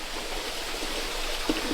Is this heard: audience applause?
no